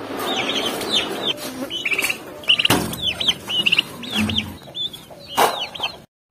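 Chickens kept in a half-built outdoor cage in the sun, clucking and chattering near the mic as a steady flock, with repeated short calls and occasional louder squawks throughout and no talking.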